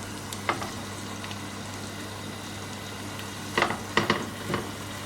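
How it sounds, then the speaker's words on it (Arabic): Chicken thighs fry in a shallow pan of oil. A soft, steady sizzle hisses throughout, broken by a few sharp pops and utensil taps near the end, with no voices. "هسه عندي هنا مقلاة وخليت بيها من الزيت، راح اجي اقلي بس الفخاد شوية"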